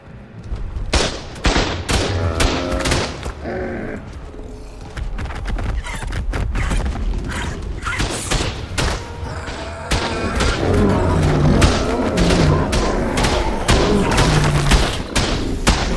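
Automated turrets in the Ark: Lost Colony video game fire repeatedly at incoming attackers, a dense, continuous barrage of loud gunshot bursts and booms with clattering impacts throughout.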